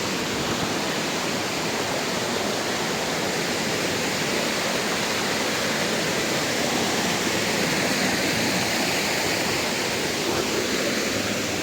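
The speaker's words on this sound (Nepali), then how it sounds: "झर्ना चाहिँ, सानो मिनी झर्ना छ यहाँ चाहिँ।" A small mini waterfall at Manichur Daha rushes in a constant, loud, broadband roar of falling water, steady and unbroken with no voices.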